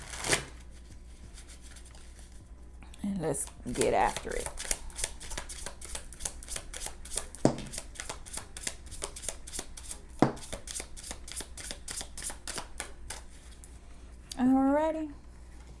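A deck of tarot cards is shuffled by hand in a quiet room, giving soft repeated riffles and slaps, with a person speaking briefly near the start and end.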